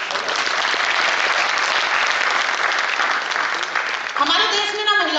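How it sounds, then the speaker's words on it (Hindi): Audience at a women's event in Jabalpur applauding loudly and continuously, a dense wash of clapping that gives way to a voice speaking near the end. "वैसे सभी साथियों के लिए तालियां होनी चाहिए"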